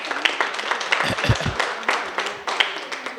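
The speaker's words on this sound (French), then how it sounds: "M. Sankara Lionel, on va applaudir très fort pour lui" Scattered clapping from a small audience at a business partners' gathering, irregular and fairly close, with a few thumps and no speech.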